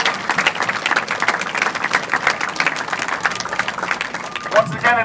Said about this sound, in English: Give yourselves all a round of applause for standing in solidarity.